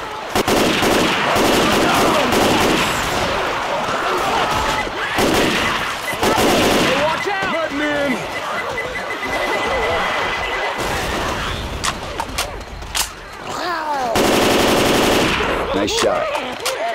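Left 4 Dead 2 gunfire fills the scene with loud, dense automatic bursts and overlapping shots that run almost without pause, while players chatter over the barrage.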